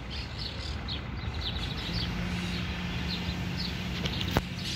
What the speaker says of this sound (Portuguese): tem esses cantos dos pássaros aqui que são maravilhosos